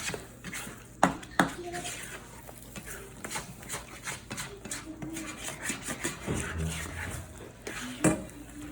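Eggs flipped around on a griddle while making breakfast, with scattered close metallic spatula clanks and scrapes, a few sharper knocks, and low background voices and soft sizzling between them.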